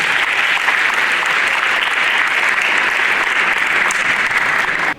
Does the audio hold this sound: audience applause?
yes